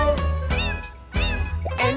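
Cat meows sung within a children's nursery song about a farmer's cat: several drawn-out, melodic meow-like vocal tones in a rhythmic pattern with music, loud and close. The meows come from a voice imitating a cat.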